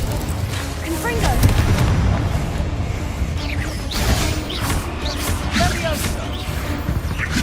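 Confringo fire spell blasts in Hogwarts Legacy crackle and boom through a dense, loud battle mix, with whooshing bursts and voices talking over the steady clamor.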